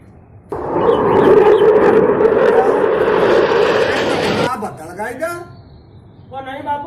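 A loud, broad engine roar of an airplane passing low overhead above wheat fields sweeps in abruptly and holds steady for about four seconds before cutting off, after which voices talk.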